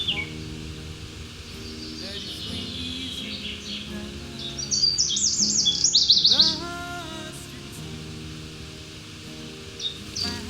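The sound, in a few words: birds chirping while coming to drink from a teasel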